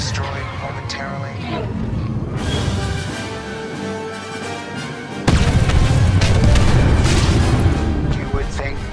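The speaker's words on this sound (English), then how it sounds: "Ship damage level critical. It will be destroyed momentarily." A starship blowing apart in Star Wars Battlefront II, a deep booming explosion that surges loud partway through over a dense battle soundscape of weapon fire and rumble on Kashyyyk.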